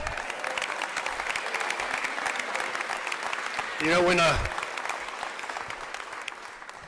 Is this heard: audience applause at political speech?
yes